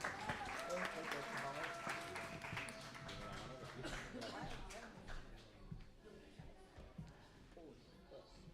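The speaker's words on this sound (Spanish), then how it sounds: "De nuevo aplaudimos. Fuerte aplauso." Audience applause at a live anniversary celebration of an Aragonese cultural centre in Sabadell, following a sung jota; a dense wash of clapping with some tonal sound and voices mixed in, fading gradually toward the end.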